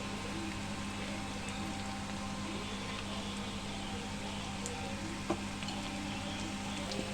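Yogurt stirred into a spice masala frying in a pan for a Bengali doi katla fish curry gives a steady, low, even sizzle with no talk.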